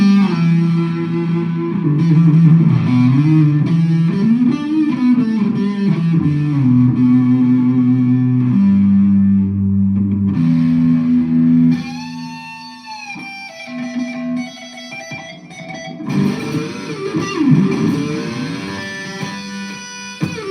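Electric guitar run through a Big Muff fuzz pedal ahead of distortion and overdrive, playing loud sustained blues lead lines with bends and held notes. It is continuous and up front, with no talking.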